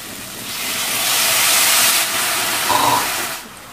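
Water dripped into a hot pan of cooking pork fillet, a loud hissing sizzle that rises, holds for about two seconds and then fades as the steam settles.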